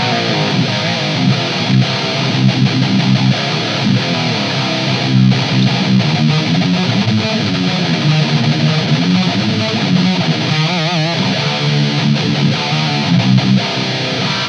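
Distorted electric guitar played through a JT45 amp model blended with a second amp, a loud, dense, continuous crunchy tone with sustained chords and riffs and no talking.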